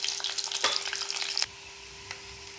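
Chillies and turmeric are stirred in a frying pan, with busy scraping and sizzling for about a second and a half before it drops to a quieter, steady hum.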